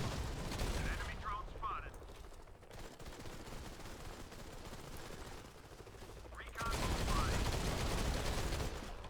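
Gunfire in the shooter game Modern Combat 5, with dense rapid automatic bursts rattling continuously and loud throughout, with a brief lull in the middle before the shooting swells again.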